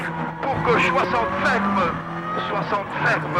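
A Ford Focus WRC rally car at the 2003 Rallye Sanremo runs on tarmac, its engine droning steadily beneath continuous commentary.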